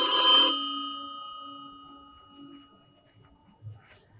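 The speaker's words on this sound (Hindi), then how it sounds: "अगर हम दोनों यहाँ ना होते तो ये फोन तो यूं ही बजता रहता।" A telephone rings indoors during a stage play, one bright electronic ring that cuts off and rings out faintly, followed by near silence and a small thump.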